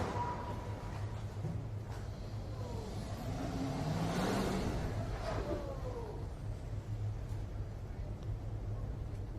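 Traffic near the president's car speeds up, and an engine revs and rises in pitch as a car passes. It sits under a steady roadside rumble, with faint voices in the background.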